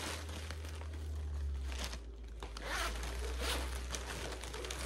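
A zipper on a bag from a Temu haul is pulled open, making close, quiet rasping bursts with some soft crinkling, alone and without talk.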